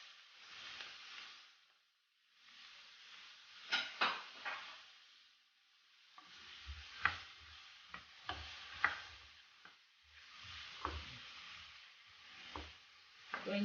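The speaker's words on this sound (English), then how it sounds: "So I'm going to leave it for the carrots to fry for about 2 minutes" Carrots sizzling in a hot pan for fried rice, a steady soft fry broken by a series of scraping stirs and light clatters of the utensil against the pan.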